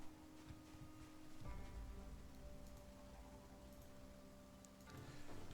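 Steady rainfall in the Project Zomboid game, a soft continuous patter with a slight swell partway through, heard alone.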